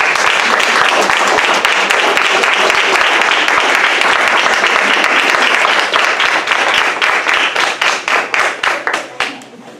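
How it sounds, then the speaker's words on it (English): An audience at an author's celebration gives the students a round of applause, loud, dense clapping close by that holds steady and then breaks into fewer, distinct claps as it fades out. "Let's give our students a round of applause."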